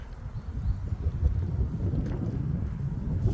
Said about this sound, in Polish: Tak, buteczka zawraca. I ustawia się, płynie w naszym kierunku.